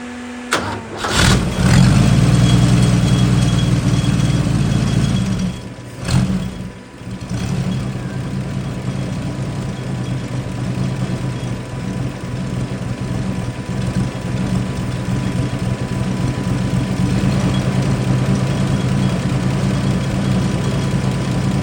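A Holden red motor with a misfire cranks and catches, runs at a loud rough idle for a few seconds, cuts out briefly, then restarts and settles into a steady close-up idle.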